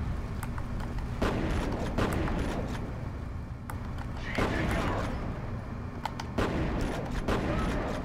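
Gunfire and a grenade blast in the first-person shooter F.E.A.R., with rapid, repeated bursts of shots and heavy booms crowding together at close range in a loud, continuous battle.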